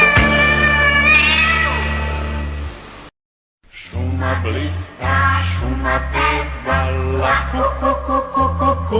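A sung "meow" imitating a cat inside a cheerful Serbian children's song, voiced by a singer over bouncy instrumental backing that drops out briefly, then resumes with more singing.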